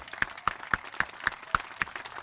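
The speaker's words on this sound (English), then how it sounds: "I want to give a round of applause to Dick" Sparse applause at a softball field dedication ceremony: a small group claps in slow, separate, fairly even beats over about two seconds, moderately close.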